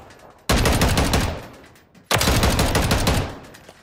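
Two loud, close bursts of rapid automatic fire from a Stinger Hawk ACR .450 Bushmaster in Call of Duty, each volley lasting over a second with a short pause between them.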